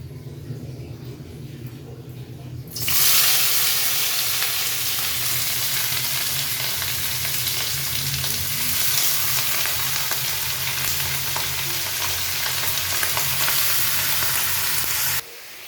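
Thin-sliced ash gourd drops into hot oil tempered with cumin seeds and bay leaf, setting off a sudden loud, close sizzle that holds steady and bright for the rest of the clip before cutting off at the end.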